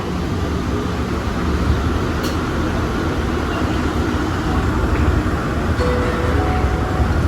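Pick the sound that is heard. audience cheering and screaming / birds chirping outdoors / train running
train running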